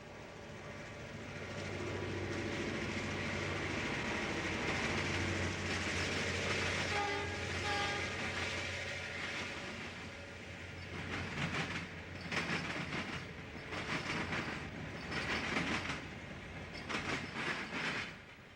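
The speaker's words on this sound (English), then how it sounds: "Running at track speed, 12 miles out of Oakwood, train SC-1 passes the Romulus Tower and Depot." A Wabash Railway freight train near Romulus Tower and Depot, where the Wabash crosses the C&O tracks, rolls past at track speed: a loud, sustained rumble and roar, then rhythmic clattering of wheels over rail joints as cars pass close by.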